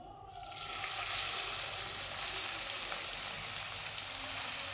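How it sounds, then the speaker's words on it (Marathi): Chopped onion dropped into four spoonfuls of hot oil in a pan for a Kolhapuri thali, a sudden loud sizzle that settles into a steady bright crackling fry with no talk. "आता ह्याच्यामध्ये मी हा कांदा घालणार"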